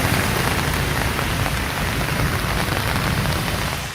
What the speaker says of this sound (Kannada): ಕೆಆರ್ ಪುರಂನಲ್ಲಿ ಆಲಿಕಲ್ಲು ಸಹಿತ ಮಳೆಯಾಗಿದೆ